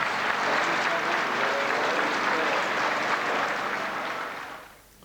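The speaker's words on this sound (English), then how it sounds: "the hundreds of fans lining the streets spontaneously gave Jimmy Cagney his last round of applause" Hundreds of people lining the streets outside a church applaud at a film star's funeral, a sustained, dense clapping from a large outdoor crowd that fades out at the end.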